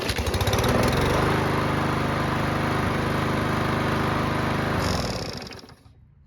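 Yard Machines lawn mower engine, hot after several minutes of running, starting and holding a loud steady buzzing run near the microphone before it shuts off and fades out at the end.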